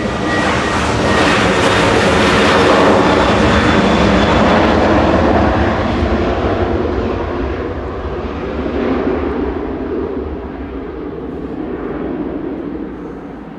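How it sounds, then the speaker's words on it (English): Ryanair airliner at Manchester Airport, a loud sustained jet engine roar that swells and then slowly fades as the plane moves off, heard alone with no talk. "Ryanair 2131,"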